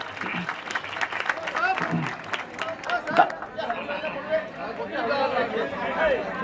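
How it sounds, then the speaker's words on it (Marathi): Audience in Tunki village applauding selected students: a burst of clapping mixed with crowd chatter, voices continuing after the applause fades. "त्याच्यासाठी जोर जोरदार टाळ्या वाजवा"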